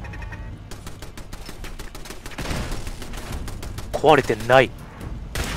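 Rapid gunfire in the Fallout 4 video game as a turret is shot apart, a dense string of sharp shots running through most of the moment, with a voice talking over the end.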